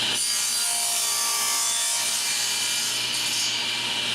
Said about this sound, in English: I've already cut those to size, and I'm working on cutting some 45-degree miters.